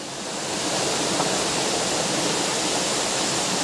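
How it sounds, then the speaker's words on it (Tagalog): Spring water welling up from the ground and flowing away, a dense, steady rushing hiss that swells in at the start and then holds even and loud. "May tuburan dito, oh. Tumutubod yung tubig."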